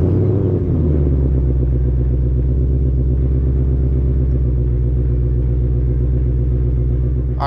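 A 2021 Ford Mustang Mach 1 with the Handling Package idles loud and close, a deep steady V8 rumble with a throbbing low burble that holds constant, then a short sharp sound at the very end.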